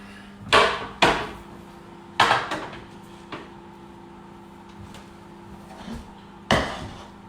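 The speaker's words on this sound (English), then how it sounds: "I'm going to get 2 chopping boards out." Wooden chopping boards are pulled out and set down in a home kitchen: several sharp knocks and clacks spread over a few seconds, close by, with a steady low hum underneath and no talking.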